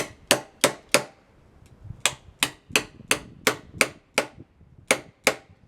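A hammer strikes a chisel to split pallet wood, giving about a dozen sharp, close knocks in an uneven rhythm, each sharp crack fading quickly, with a short pause near the start.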